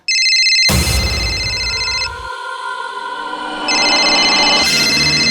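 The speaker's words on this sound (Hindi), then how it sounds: "तेरे जिगरी दोस्त करण का ही फोन होगा, उठा ले।" A mobile phone rings loudly and close in a crime drama scene, its electronic tone pattern repeating in steady bursts with a brief quieter pause midway.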